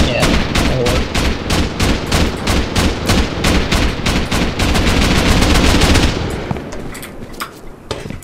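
Rapid automatic gunfire from the survival video game Rust, a dense run of loud, evenly spaced shots for about six seconds, then trailing off into a few scattered single shots.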